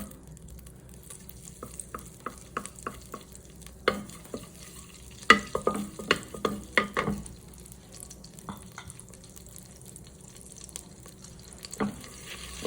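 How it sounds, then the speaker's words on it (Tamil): Butter and oil heat in a heavy pan, a soft sizzle under clustered spoon-against-metal scrapes and clinks, busier in the middle, then sparse. "பட்டர் உருகு முன்னாடியே கொஞ்சம் எண்ணெய் ஊற்றிடலாம்."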